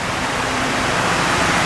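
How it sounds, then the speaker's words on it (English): The fountain waterfalls at the 9/11 Memorial in New York roar steadily, a dense, broad wash of falling water that stays loud and unchanging, with no voices over it. "waterfalls"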